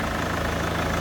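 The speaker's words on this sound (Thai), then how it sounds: "ครับนี่เสียงเครื่องยนต์" A 2012 Chevrolet Captiva 2.0 4WD engine idles steadily and close by, a low even rumble with a regular pulsing throb and no voices.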